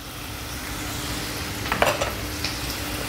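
Butter sizzles in a pan while Mexican rice cooks, a steady frying hiss with a brief clatter of stirring midway and a lighter tap near the end.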